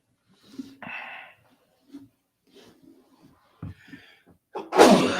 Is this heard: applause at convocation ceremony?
no